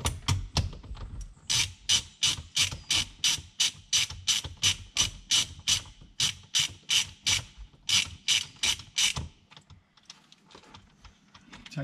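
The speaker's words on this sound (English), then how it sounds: "You'll need a 19mm socket to get the nut out." A ratchet on a 19mm socket clicks rapidly in a long steady run of sharp, close ticks while undoing the airbag nut on a 2005-2015 Toyota Hilux N70 steering wheel, then stops near the end.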